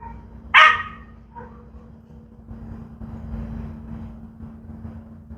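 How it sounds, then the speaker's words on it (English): A single sharp dog bark up close, followed by quieter yips and whimpers in the distance over a low hum. "the dog decided he wanted to come outside and bark at the other dogs."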